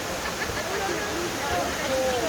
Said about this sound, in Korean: 여기 폭포에 왔습니다. 봉래 폭포.